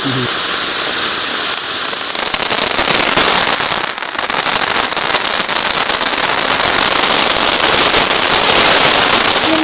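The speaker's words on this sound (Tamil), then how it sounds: "இது வந்து ராவணன் டைப்ல உள்ள ஃபவுண்டன் மாதிரி" A Ravana-type firework fountain from Sivakasi erupts in a loud, continuous crackling hiss that holds steady for about ten seconds, close to the listener.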